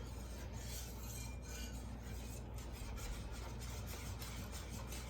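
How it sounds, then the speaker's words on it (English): Mild cheddar is stirred into a cheese sauce for homemade macaroni and cheese, a steady close scraping and rubbing of a utensil against the pot that keeps going without pause and with no voices. "so we're adding in our mild cheddar. We're stirring that in."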